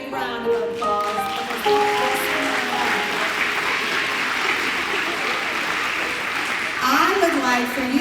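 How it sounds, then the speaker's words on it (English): Audience applause fills a school room after an elementary school nursery-rhyme performance: steady, dense clapping that holds for several seconds, with a voice heard briefly at the start and again at the end. "Give them a big round of applause."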